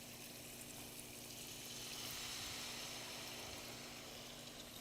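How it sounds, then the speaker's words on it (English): Water is poured into a pan of onions cooking with turmeric and red chili powder, a steady, soft splashing and sizzling wash that swells slightly midway and runs continuously. "Now I'll put little bit of water to cook the onion."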